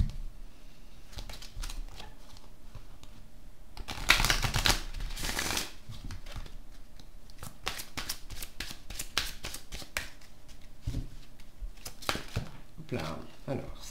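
A deck of oracle cards is shuffled by hand in a bright, riffling burst around the fourth second, followed by scattered soft card flicks and taps close by, with someone talking over part of it.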